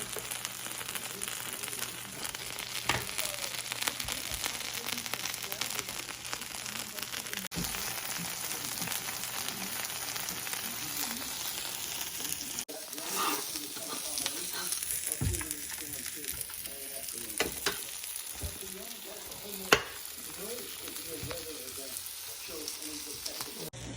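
Breaded venison pieces coated in flour and egg fry in a pan with a steady, close crackling sizzle that runs throughout, with occasional louder pops and faint handling noises.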